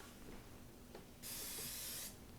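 Cooking spray from an aerosol can gives one steady, close hiss lasting just under a second in a home kitchen while kids cook, with faint background noise before it.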